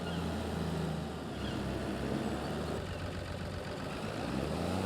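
A tractor with a trailer in a farming video game reverses on a steady low engine drone that idles and shifts slightly in pitch, continuous and moderately loud.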